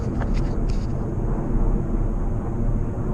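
Three V-22 Osprey tiltrotor aircraft flying over together, a steady broad rumble throughout, moderately loud and unbroken, with no talking.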